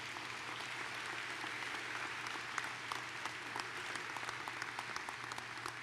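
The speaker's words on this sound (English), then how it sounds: "Let's give them a round of applause for the good work they do every day." Convocation audience at UW-Stevens Point applauding vice chancellors: a full, steady round of clapping from a large indoor crowd, sustained at an even level throughout with crisp individual claps standing out.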